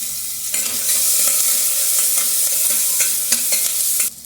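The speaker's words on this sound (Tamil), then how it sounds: "ஒரு பச்சை மிளகா, கொஞ்சோண்டு வெங்காயம், கருவேப்பிலை கொஞ்சம், எல்லாத்தையும் போட்டு வதக்குங்க." Onion, green chili and curry leaves sautéing in a pan for bottle gourd kootu, a loud, steady hiss of frying with rhythmic stirring clicks and scrapes throughout, close up and without voices.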